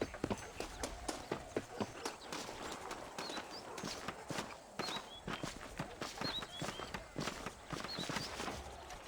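Steady clip-clop of horse hooves from the Red Dead Redemption video game, a quick, even rhythm of close hoofbeats with faint bird chirps in the background.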